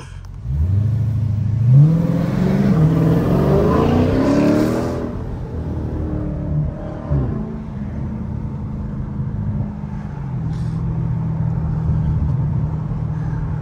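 A 500 HP Dodge Scat Pack V8 roars loudly as it accelerates through traffic, revving hard up through a gear, then dropping to a lower, steady engine drone, heard close without talk.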